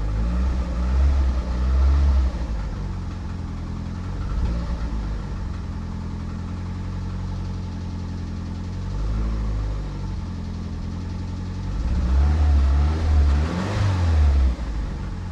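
A car engine idles steadily with a low, even rumble after an oil pressure gauge install, swelling slightly louder twice as if blipped, with no talking over it.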